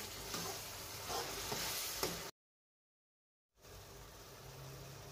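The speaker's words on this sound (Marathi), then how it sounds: "टमाट्याची पेस्ट टाकते मी पण 5 मिनिटं अशी परतवून घ्यायची" Tomato paste sautéing in a pan for pav bhaji gives a close, steady sizzle with light stirring scrapes, breaking off into a short silence before the frying resumes.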